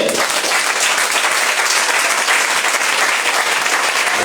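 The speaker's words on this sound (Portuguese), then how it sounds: "Em nome de Jesus, aplauda ele." A church congregation at a Pentecost service breaks into dense, sustained applause, many hands clapping steadily throughout with a faint voice underneath.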